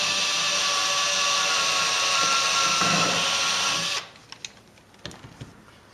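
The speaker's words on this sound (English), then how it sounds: "hooray for cordless drills" A cordless drill whirs at a steady high pitch for about four seconds while working on model railroad scenery, then cuts off, leaving a few light clicks and taps.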